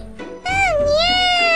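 A cat character in the Professor Layton game lets out a loud, clear meow with a rising and falling pitch, preceded by a brief softer sound.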